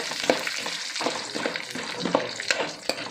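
Peanuts fry in hot oil while being stirred for churumuri, a spicy puffed-rice snack. A steady close sizzle carries repeated scraping stir strokes, with no talking.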